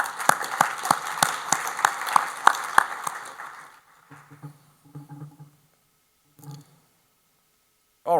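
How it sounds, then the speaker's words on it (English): Applause from a conference audience for the project's volunteers: about three seconds of fairly loud, dense clapping that fades out, then quiet with a few faint scattered sounds. "I'd please like to give those volunteers a round of applause as well"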